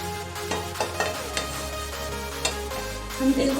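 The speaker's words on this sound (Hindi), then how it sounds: "हम तेल को अच्छे से हीट करेंगे ताकि हमारा फिश पैन से चिपके ना।" Mustard oil heats in a frying pan for a fish dish with a soft, steady sizzle, while a few light utensil taps sound close by and nobody talks.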